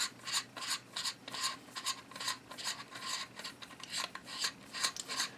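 Parts of a GSG-16 rifle being worked with metal tools during a barrel swap: a steady series of rapid, faint rasping and scraping strokes, close up and with no voices.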